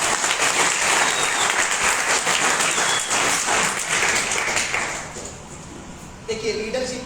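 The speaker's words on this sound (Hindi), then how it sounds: "एक ताली बजा सकते हैं आप लोग" An audience bursts into loud, dense clapping in a hall, strong for about five seconds before fading away, with a few scattered claps and a voice starting up at the end.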